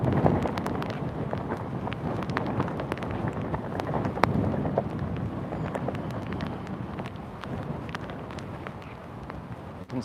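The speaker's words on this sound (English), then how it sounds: "It is definitely windy." Strong Hurricane Ian wind at the old stone fort in St. Augustine, Florida, buffets an outdoor microphone. It makes a steady, rough roar with gusty thumps and low rumbling, and no clear voices can be heard.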